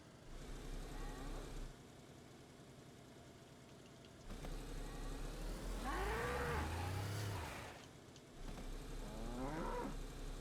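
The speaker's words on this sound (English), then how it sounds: "I heard the cow. Y'all heard the cow too, right?" A cow moos in a video game, low drawn-out calls rising over steady ambient game noise and engine-like hum, with another bellow following moments later.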